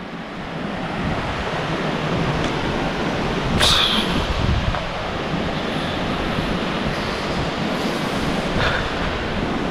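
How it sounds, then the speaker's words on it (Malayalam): Broadband roar of Jogini waterfall near Vashisht, Manali, as water pours down, a loud steady wash with wind buffeting the microphone and no talk. "വെള്ളം നന്നായിട്ട് അടിക്കുന്നുണ്ട് കേട്ടോ"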